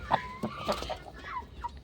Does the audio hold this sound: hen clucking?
yes